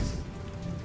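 Steady rain drizzle in a cartoon, a continuous hiss of drops on a surface, close and even throughout the short moment.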